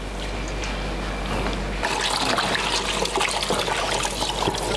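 Running tap water rinses a raw pork tripe, first a steady trickle, then a louder, fuller splashing stream as the stomach is handled under it.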